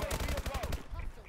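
Rapid automatic gunfire bursts in the video game Call of Duty Advanced Warfare, a short fast rattle of shots followed by a few fainter game sounds.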